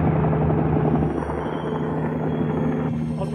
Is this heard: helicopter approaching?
yes